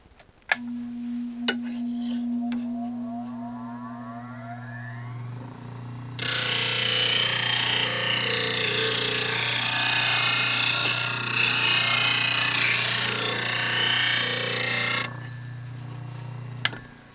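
A bench grinder works the bevel of a round nose negative rake woodturning scraper: a steady motor hum first, then a loud, continuous grinding rasp for about nine seconds before the steel lifts away.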